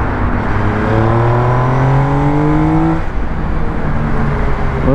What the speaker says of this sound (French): on a dépassé 6000 tours et là la moto commençait franchement à s'alléger de l'avant avec le bruit qui va bien